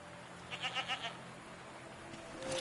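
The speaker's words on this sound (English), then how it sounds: "What are these strange goat-like creatures?" Goat-like creatures in a PS5 video game give a short run of four or five quick bleats in succession, then a quieter call near the end over a soft ambient background.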